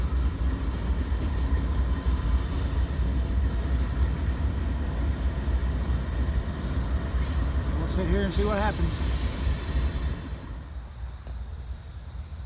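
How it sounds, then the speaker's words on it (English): A Norfolk Southern train backs into the yard past a rail diamond in southwest Indiana, a loud continuous rumble with a brief tonal squeal midway, easing off near the end while someone speaks briefly over it. "I've never seen a train cross the Diamond and then back up."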